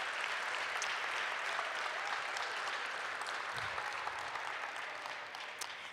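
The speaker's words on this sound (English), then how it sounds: "Let's put our hands together for Populous and DPR." Audience applause at a press conference opening the Valkyries Performance Center, a dense, even patter of many hands clapping that carries on steadily and eases slightly toward the end.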